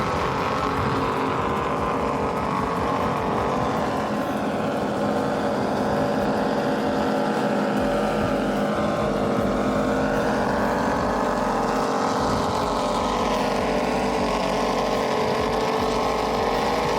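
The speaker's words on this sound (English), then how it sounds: "I'm really starting to love the sound of these Mercury Racing 860s." Racing powerboat powered by Mercury Racing 860 engines roaring at speed on open water during the Key West poker run, a dense, continuous engine drone mixed with rushing hull and spray noise, with no talk.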